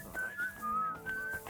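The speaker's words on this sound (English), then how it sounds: "everyone's in a whistling mood today, I guess, huh?" A character in the video game Kingdom Come: Deliverance 2 whistles a short wavering tune of a few sustained notes, fairly soft and alone, with no talking.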